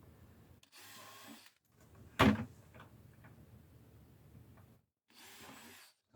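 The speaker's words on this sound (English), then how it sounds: "next thing I'll do is drill the air holes" A power drill with a 1/4-inch bit whirs in short bursts, drilling air holes in a plastic bucket, with a sharp knock in between and quiet handling noises around it.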